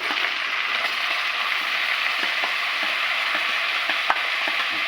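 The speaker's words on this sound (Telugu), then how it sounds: "బాగా అల్లం వెల్లుల్లి పచ్చిమిరపకాయ ఉల్లిపాయలు బాగా వేగుతున్నాయి" Onions, ginger, garlic and green chillies fry in hot oil, giving a steady close sizzle with occasional soft stirring clicks and scrapes, no voices.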